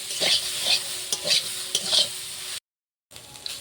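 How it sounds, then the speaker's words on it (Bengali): Grated coconut frying and being stirred in a pan with spices, rhythmic scraping strokes over a steady sizzle, briefly cutting to silence before stirring resumes. "নারকেল ভাজা হয়ে গেছে, ভালো করে নারকেল ভেজে নিয়েছি।"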